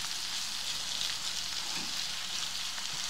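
Dried loitta fish fries in hot oil with a continuous, even sizzle, close and moderately loud, with no voices over it.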